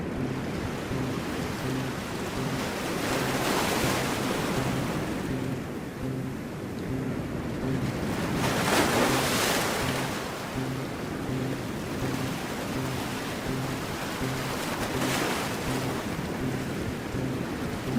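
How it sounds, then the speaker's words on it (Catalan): Ocean waves wash in steady, rolling surges for a guided relaxation nap, soft hiss swelling and receding over a low droning tone, with no talk. "I escoltes els sons de les onades, sons d'energia natural."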